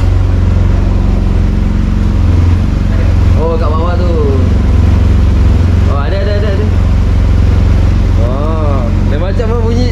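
A large Yamaha TMAX scooter engine with a silencer idles with a steady low, muffled rumble, close by, while people talk over it.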